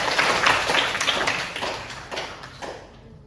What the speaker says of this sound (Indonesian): Beri tepuk tangan dulu buat Safa.